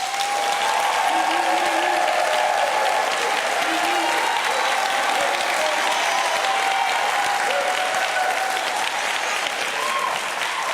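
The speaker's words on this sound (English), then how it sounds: "that explains the lengthy applause" Long sustained audience applause at a Detroit mayoral debate, a steady broad roar of clapping that stays even and loud throughout, with faint tonal sounds and a few voices mixed in.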